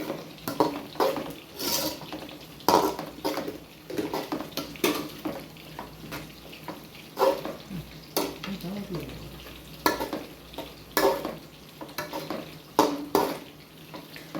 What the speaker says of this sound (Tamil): ஃப்ரைட் ரைஸு போட்டு நல்லா கிளறி விட்டுடலாம்.